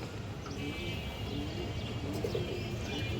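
A male and female pigeon pair coo close by, with soft, low, repeated coos and a few faint chirps over a steady background hum. No one speaks.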